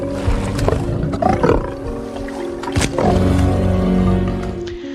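A lion lets out deep, loud rumbling roars and growls close by in the 2022 film Beast, a few heavy bursts over several seconds with tense film music humming underneath.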